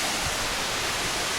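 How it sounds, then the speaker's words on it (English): Waterfall near Ella, Sri Lanka, heard as a dense, unbroken rushing roar that stays at an even loudness for the whole short stretch, close by and alone. "Well, I just come up here and it's a beautiful waterfall right up there and right up there."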